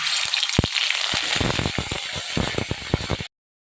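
Ginger paste hits hot refined oil already spiced with cardamom and cinnamon, giving a loud crackling sizzle with sharp spitting pops that fades into steady frying before cutting off abruptly.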